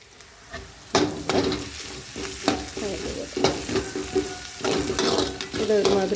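Chopped garlic and ginger fry in hot oil, a continuous close sizzle broken by repeated clanking spoon strokes against the pan as they are stirred.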